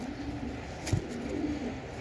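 Pigeon cooing softly at close range, a brief low coo rising once over steady background hiss; the bird is a small-tailed fancy pigeon, part of a breeding pair.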